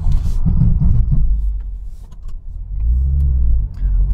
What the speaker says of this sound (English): And now we're going to go to 40 miles an hour